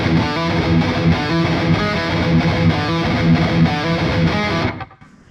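A Graphene PolyChrome DSP pedal runs its flanger effect, a loud, steady, sweeping, distorted tone that plays continuously and then cuts off abruptly near the end.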